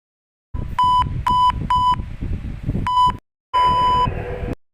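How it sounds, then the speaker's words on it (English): Morse code beeps in a clear, loud steady tone: three short beeps, a pause, another short beep, then one long beep, all over a faint noisy background. "Let's hear the difference of short beep and long beep first."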